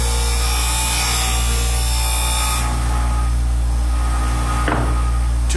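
A wood lathe spins in a workshop while a Kelchner piece is turned: a loud, continuous motor hum with a whining tone and a scraping tool cut, easing partway through, then a short scrape near the end.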